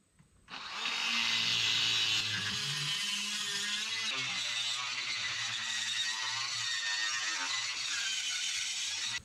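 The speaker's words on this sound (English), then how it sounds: "I'm still going to have to grind on the oil cooler to make room" A power grinder works on the hydraulic oil cooler of a Case 170B excavator, starting abruptly and holding a loud, continuous high-pitched whine with slight changes in load, close by.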